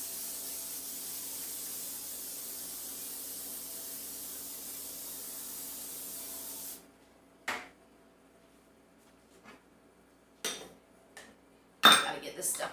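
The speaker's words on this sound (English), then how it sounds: "I'm going to use some cooking spray to coat this pan." Baker's Joy cooking spray hissing steadily for about seven seconds as it coats a baking pan, followed by a few clinks and knocks of kitchenware.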